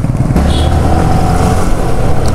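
A close, loud motorcycle engine drones steadily while riding through traffic on an off-road outing, the low throbbing exhaust holding a constant note with wind noise over it.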